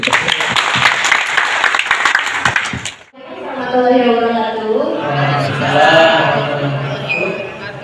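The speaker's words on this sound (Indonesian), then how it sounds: "Tepuk tangan buat Bapak dan Ibu." After a stretch of talk, an indoor audience at an Indonesian community workshop breaks into sustained clapping and cheering lasting several seconds, with voices mixed in.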